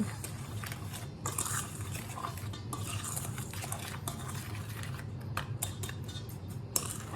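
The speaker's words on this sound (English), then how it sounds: "Give it a good stir, get it all incorporated." Spoon stirring pectin and sugar together in a bowl, a quiet continuous scraping and clinking with irregular gritty strokes, close and soft, no voices.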